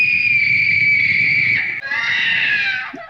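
A girl in the 1961 film The Innocents screams in a loud, sustained, piercing shriek that wavers and changes pitch partway through, with no other voices.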